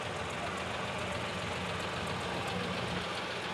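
An antique tractor engine runs steadily at a parade, a continuous loud mechanical drone with a knocking, idling texture that holds without breaks.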